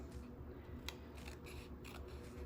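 Scissors cut through paper during a mixed-media art process, a run of close crisp snips with quiet rustling between them and no talk.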